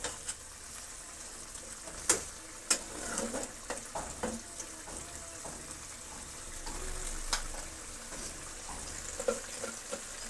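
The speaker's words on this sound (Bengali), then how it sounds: "এখন আমি একটু নেড়ে দিলাম।" Egg and potato curry frying in a pan while being stirred, a faint steady sizzle under scattered spoon scrapes and clinks, quiet and close, no talking.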